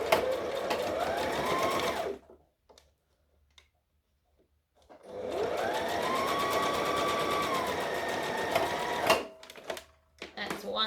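A sewing machine runs in two long, steady bursts while dress arm sections are stitched down, with a near, loud mechanical whir separated by a short pause.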